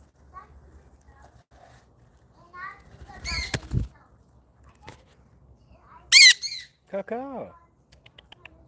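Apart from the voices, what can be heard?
pet bird squawking and flapping wings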